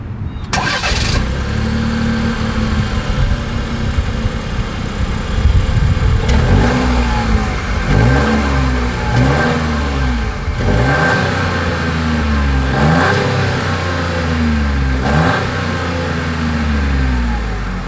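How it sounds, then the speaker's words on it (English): A 2025 Buick Envista's engine cranks and fires, then settles into idle with repeated throttle blips, its exhaust note rising and falling in several loud revs up close, with no talking. "As always, here is that exhaust clip."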